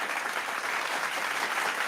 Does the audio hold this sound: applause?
yes